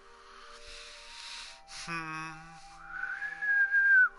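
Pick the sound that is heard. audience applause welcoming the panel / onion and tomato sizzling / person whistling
person whistling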